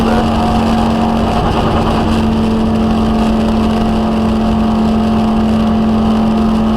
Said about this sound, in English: Rev limiter there.